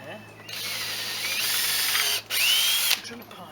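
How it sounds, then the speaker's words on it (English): A power drill runs, boring a pilot hole into pallet wood, a loud continuous whine in two bursts separated by a brief pause, with a rising pitch sweep near the end of the second run. "drill a pilot hole"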